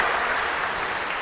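A congregation applauds during a Transfiguration feast Mass, a short burst of dense, steady clapping filling the room.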